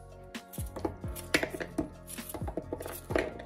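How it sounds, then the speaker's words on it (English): Knife chopping coconut into cubes for a Jamaican salt mackerel rundown, a series of sharp, close knocks on a cutting board at an irregular rhythm, about eight distinct strikes with no talking. "Now I cook it, cutting up my coconut"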